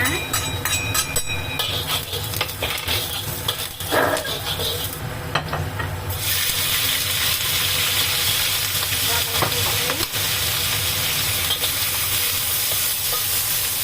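Garlic hits a hot pan with a loud, steady frying sizzle and crackle, broken by occasional stirring knocks and scrapes, and no talk over it.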